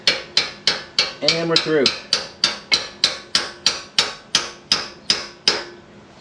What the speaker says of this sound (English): just lightly tapping because it's tight right here.